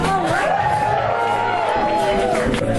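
Audience at a New York human rights gala cheering and applauding loudly as a salsa act is introduced, with a dense, continuous roar of clapping and raised voices, along with music running underneath.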